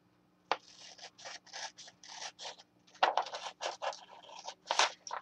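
Scissors cutting paper for a Christmas mini album: a quick series of crisp snips and slicing scrapes, close and fairly quiet, with brief pauses between cuts and no talking.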